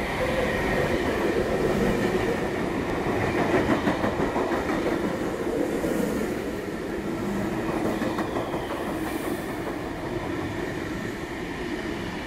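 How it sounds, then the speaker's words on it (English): An eight-car Intercity V-set train passes platform 1 at Eastwood with a loud, continuous rumble and the clatter of wheels on rails, fading slightly toward the end. "8-car V-set passing platform 1"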